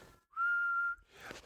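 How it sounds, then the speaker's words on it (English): A person whistles one steady, clear sustained note for about half a second, loud and close, with brief breathy noise before and after. "Now, I know you can whistle."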